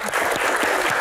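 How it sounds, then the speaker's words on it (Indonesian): An audience at a question-and-answer event bursts into applause, a brief, loud spatter of clapping from many hands filling the whole moment. "Tepuk tangan luar biasa."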